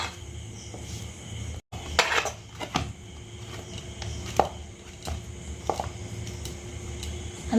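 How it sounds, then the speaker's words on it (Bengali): Flour dough is kneaded by hand in a bowl for an egg roll recipe, giving soft irregular squishes and thumps mixed with occasional clinks and scrapes of the bowl, close and moderately loud. "एबार आमि मयदाटा मेखे नेब।"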